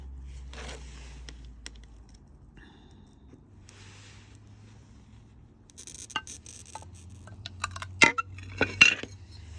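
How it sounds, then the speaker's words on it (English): A glass cutter scores a straight line across a sheet of glass, a faint gritty scratch that builds into louder, sharper scraping bursts toward the end. "This glass is cutting really well."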